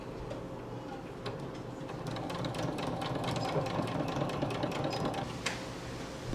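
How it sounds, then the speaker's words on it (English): A sewing machine runs steadily while stitching a fabric loop onto a hammock bug net, with a close, continuous rapid ticking that holds for several seconds, without talk. "we'll just sew a couple lines of stitching into it to secure it"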